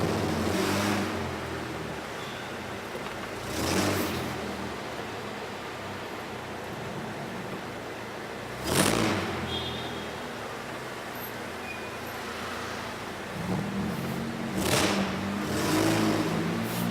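A car engine revs loudly inside an enclosed parking deck, with a constant roaring wash echoing off concrete and several louder surges, and no talking.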